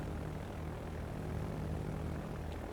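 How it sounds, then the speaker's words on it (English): A squadron of Westland Wyvern propeller torpedo bombers in the World of Warships naval game, a faint, steady droning engine hum holding throughout with no talk. "He's got a torpedo bomber squadron."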